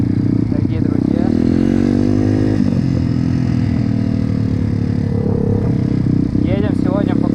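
Pit bike motorcycles ride through a snowy forest on a slippery track, the engine droning and revving steadily close up throughout, with people talking over it.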